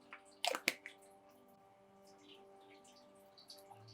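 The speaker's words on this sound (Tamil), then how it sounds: "இது எண்ணெய் சூடாயிடுச்சு கடுகு போட்டுக்கலாம்" Mustard seeds hit hot oil in a small kadai and splutter in a quick, loud burst of crackles and pops near the start. Faint scattered pops follow over a low steady hum.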